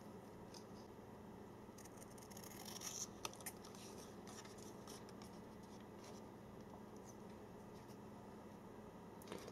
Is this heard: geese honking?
no